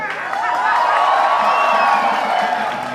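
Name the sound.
crowd applause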